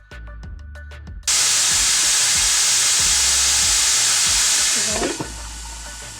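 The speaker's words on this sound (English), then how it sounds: "Not too much oil. Let that fry for a bit" Oil fries in a pan with a sudden loud, steady sizzle and hiss that starts abruptly, holds for several seconds, then eases off, preceded by a few soft clicks and knocks.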